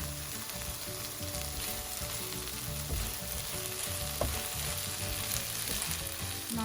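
Prawns for a Goan prawn chilli fry sizzle loudly and steadily in a hot pan, a dense continuous frying hiss with occasional stirring scrapes, close and alone without voices.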